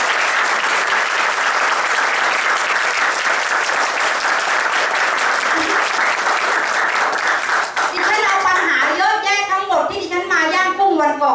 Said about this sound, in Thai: ขอเสียงปรบมือให้กับท่านเลยค่ะ